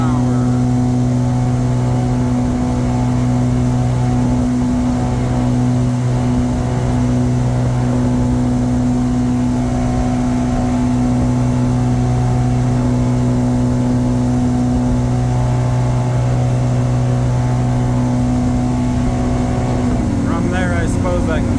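Yamaha 212X boat from 2017 running at about 7,500 rpm on water, a loud, constant engine drone with a steady pitch over rushing water, with talk heard over it.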